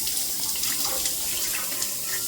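Tap water runs steadily into a fish tank being refilled after cleaning, a continuous broadband splashing and gurgling rush with no talk over it.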